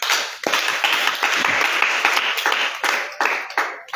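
Church congregation clapping enthusiastically in praise of the Lord, a dense, loud, steady applause with sharp individual claps throughout, a few voices faintly mixed in.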